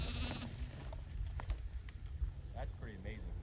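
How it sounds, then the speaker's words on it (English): Sheep bleating on a Minnesota pasture during livestock sorting, a few short wavering bleats near the end over low rumbling wind and handling noise. "When you get a sheep by himself, they don't like that at all."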